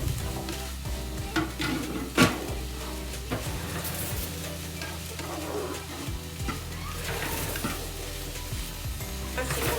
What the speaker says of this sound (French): Il faut bien mélanger l'ail pour pas tomber sur un gros morceau d'ail noir.